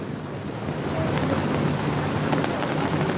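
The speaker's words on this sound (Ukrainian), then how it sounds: "І град пішов" Hail pelts down outdoors, a dense, steady patter that swells after the first second into a constant rushing clatter, with no voices over it.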